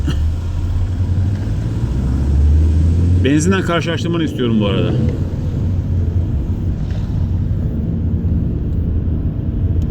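Opel Astra 1.6 car running on LPG climbing a ramp: a steady, loud engine drone and road rumble fills the whole stretch, with someone speaking briefly over it partway through.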